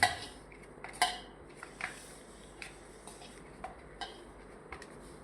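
Cheese paratha dough being kneaded in a bowl, giving soft irregular knocks and clinks with a few sharper taps, faint and close, with no talking.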